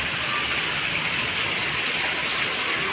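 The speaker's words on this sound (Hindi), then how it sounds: "माशाल्लाह बहुत अच्छी से बारिश है, सुबह से थी नहीं अब हुई है" Steady rain pours down during a monsoon-style shower at a home, a dense continuous hiss of drops on surfaces, close and even throughout with no voices.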